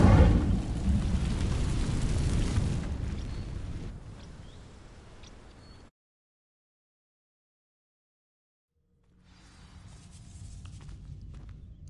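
Incendio fire spell from Hogwarts Legacy igniting dry vines: a loud roaring, crackling whoosh of flame for several seconds that fades out, a few seconds of silence, then a quieter ambient rumble returns.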